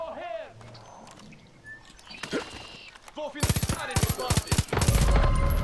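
Rapid bursts of gunfire crackle loudly in the second half of Far Cry 5 gameplay after quieter stretches with scattered sounds and a voice.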